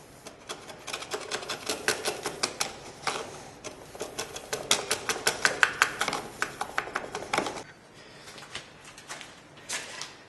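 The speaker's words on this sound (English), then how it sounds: "take a really sharp chisel. I go to my tried and true 1/2 incher and just smooth it out" A sharp half-inch chisel pares and smooths a groove in wood, producing a quick series of close, crisp taps and scrapes that stop briefly near the end before a few more strokes.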